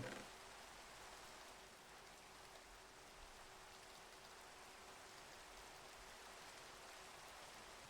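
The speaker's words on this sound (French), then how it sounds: "Oh non, la pluie." Steady rain in the Minecraft video game, a faint, even hiss of falling drops with no other sound over it.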